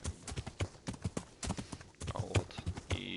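Horse hooves clip-clop in steady rhythmic beats inside the medieval game Kingdom Come, a prized fast horse trotting along, the footfalls close and fairly loud with no talk over them.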